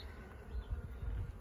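Honeybees drone around a wintering hive coming out of winter, a soft continuous low buzz with small swells, close and steady, no voices.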